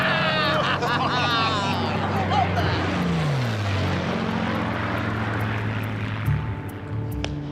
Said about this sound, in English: The single-engine planes race low to the ground around an 8-mile oval.